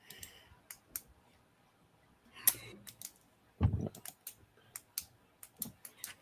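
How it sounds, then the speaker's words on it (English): Computer keyboard keys click in scattered, irregular bursts of typing with short pauses, close and fairly soft, during an eBay listing session. "I hear a lot of clicking"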